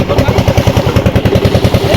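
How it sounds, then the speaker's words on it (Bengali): A small boat's engine runs on a river near the Sundarbans, a loud, close, fast and even thumping chug that keeps a steady rhythm without any voices over it. "দেখতে পাচ্ছেন বোট কিন্তু চলছে।"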